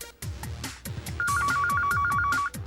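A telephone rings for an incoming call on a radio phone-in show, a loud electronic ringtone pattern repeating several times in quick succession, alone with no voices.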